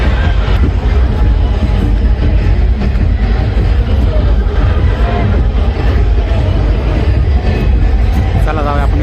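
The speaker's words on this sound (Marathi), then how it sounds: "विश्रांतवाडीला जाणारी गर्दी बघा." A dense crowd heading through Vishrantwadi to a Bhim Jayanti celebration makes a loud, constant hubbub of many voices, with traffic and street noise mixed in throughout.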